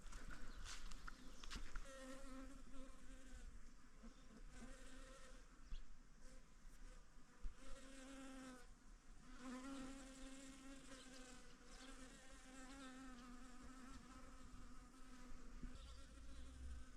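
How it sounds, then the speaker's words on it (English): Bees buzz steadily all the way through around blooming Phacelia, a close, continuous droning hum with a few louder passes as insects fly near, and no talking. "There's such a pleasant buzzing sound."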